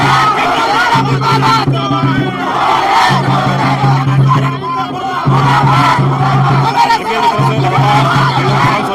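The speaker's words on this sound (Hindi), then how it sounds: "छात्र नेता जो भी रोड पर बैठ गए हैं लगातार नारेबाजी करने लगे हैं।" Student protesters sitting on a road in Jharkhand chant slogans in a loud, continuous crowd roar, voices rising in repeated rhythmic bursts close by.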